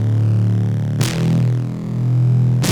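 A Vital synth preset riff called "backward sunrise" plays alone, with swelling sustained tones and a bright swept burst about a second in, then another sharp onset at the end.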